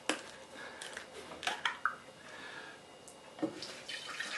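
100% apple juice at room temperature poured into a pitcher, a soft, moderately close liquid trickle with a few brief splashy bursts and light knocks, no talking.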